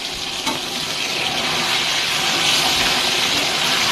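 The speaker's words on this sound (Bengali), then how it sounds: "আমরা লোটে মাছ এভাবেই ভাজা করে খাই" Bombay duck fish frying in a pan of hot oil, a loud, dense, close sizzle that holds steady and swells slightly, with a soft knock near the start.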